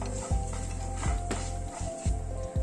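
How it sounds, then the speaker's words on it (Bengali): White cumin and mustard seeds crackle in hot oil, with scattered sharp pops over a low, steady sizzle close by. "সর্ষে ও জিরেটাকে একটু ক্র্যাক করিয়ে নেব"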